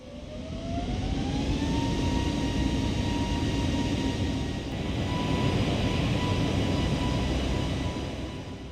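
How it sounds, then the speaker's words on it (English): Steady, loud roar of an Airbus A320's jet engines as it accelerates down the runway on a test flight, with a rising whine that levels off and continuous broadband noise throughout, no talking. "the aircraft began to accelerate down the runway"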